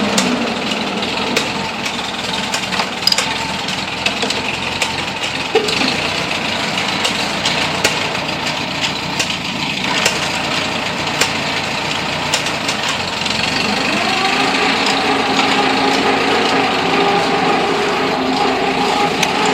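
Ford tractor engine, on an amphibious tractor build, runs at idle with a steady light rattling putter and some knocking and clatter over it, constant and close with no talking.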